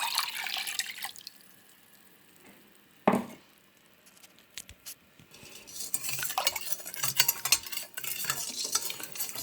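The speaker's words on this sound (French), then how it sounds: "On mélange le tout" A utensil stirs a mix of vegetable pickles just doused with vinegar, wet swishing and scraping in a bowl with a sharp clack midway and livelier churning toward the end.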